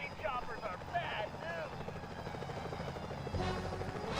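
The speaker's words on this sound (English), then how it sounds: "Security choppers are bad" A security helicopter in the video game Sly Cooper: Thieves In Time drones with a steady rotor hum beneath game music and effects, growing a little louder toward the end.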